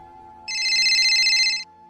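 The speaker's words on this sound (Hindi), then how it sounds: "तभी उसके टेलीफोन पर फोन की घंटी बजती है" A telephone bell rings in one continuous burst of rapid electronic trilling lasting about a second, loud and close over a quiet room with a faint steady hum underneath.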